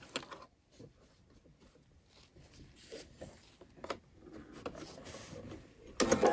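A sewing machine stitching a gathered balloon sleeve seam, quiet bursts of mechanical whirring and rattling with short gaps, ending in a louder rattle.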